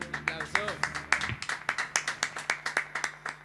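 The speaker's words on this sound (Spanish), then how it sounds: "¡Aplauso!" Audience at a live studio music session claps in a steady rhythmic beat, fairly close and moderately loud, after a voice calls out at the start.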